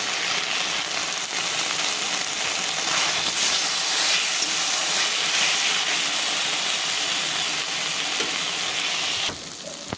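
Tomato sizzles loudly in hot oil with spices in a pan while a curry of pointed gourd and paneer cooks down, a steady dense frying hiss running throughout without talk.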